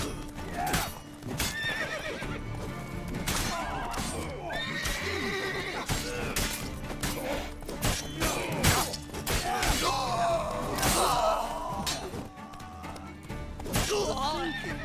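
A horse from The Witcher 3 game neighs and whinnies loudly several times, its hooves clip-clopping, amid game sound effects with some voices.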